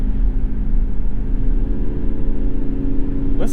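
Artificial driving sound from a Mazda MX-30 electric car: a steady, loud synthetic hum with a low, constant drone, continuing unbroken and without any voices.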